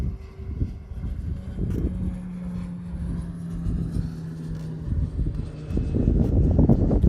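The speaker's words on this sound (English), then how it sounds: "That was a private jet, by the way, in case you're wondering what that noise was." A private jet passes at an air show in Dayton, Ohio, its engine roar swelling and fading against wind noise, with a steady low hum and a louder surge at the end.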